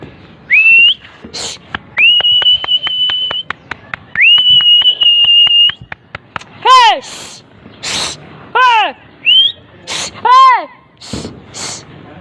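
A bird calls loudly and close by with sharp whistles, long sustained notes and rapid repeated chirps, broken by short pauses.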